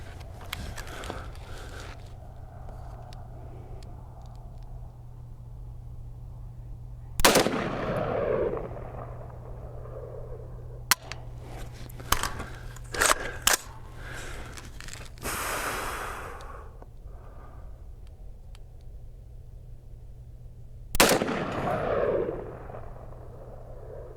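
A brand-new rifle fires two loud, close shots about fourteen seconds apart, each with a booming tail. Quiet breathing and handling noises fill the gaps between them.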